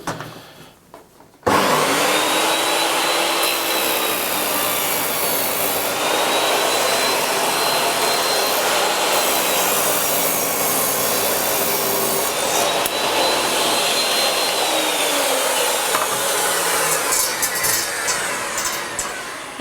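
A Triton Workcentre WCA201 saw rips a wooden board to width, starting abruptly after a short quiet moment and then holding a loud, close, sustained whining cut with gentle rises and dips until it tapers at the end.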